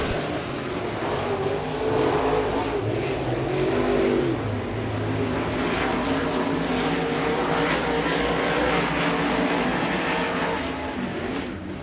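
A-Mod dirt track race cars roar down the front stretch at Victory Lane Speedway in Manitoba, Canada, a loud, steady, sustained engine drone from a close-packed field passing by.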